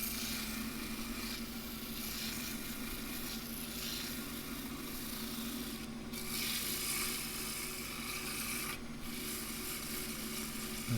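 A steady, soft rasping hum of sanding a knotty, split Himalayan cedar bowl on a lathe with oil continues throughout, even and unbroken, with a faint low mechanical drone underneath.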